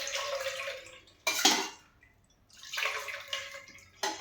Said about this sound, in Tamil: நல்லா 2-3 தடவை தண்ணி ஊற்றி அலசி எடுத்துக்கிறோம்.